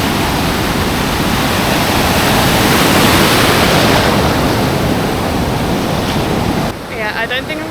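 Large ocean waves crash and wash continuously onto a beach on Ilha Grande, Brazil, a loud, dense roar with wind buffeting the microphone, easing slightly near the end.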